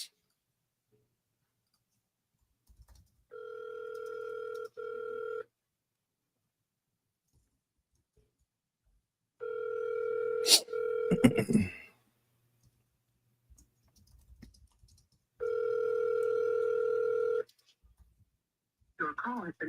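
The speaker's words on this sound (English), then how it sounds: "I'm dialing Vernell" A phone call being placed, with three long steady ringback tone bursts separated by quiet gaps and a brief sharp click near the middle; the ringing is clear and fairly loud with no speech over it.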